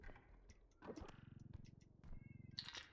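A pet cat yowls loudly from another room, with long, pulsing cries and a sharper high call near the end. No one speaks.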